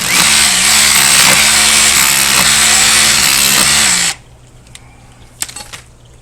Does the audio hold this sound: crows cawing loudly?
no